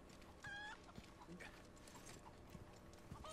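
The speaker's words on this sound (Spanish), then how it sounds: "Oye, si asustamos a las gallinas o algo, ¿pondrá un huevo?" Chickens cluck faintly in the Resident Evil 4 Remake village, with scattered clucks and short calls over a busy game ambience of thuds and clip-clop footsteps, quiet and distant.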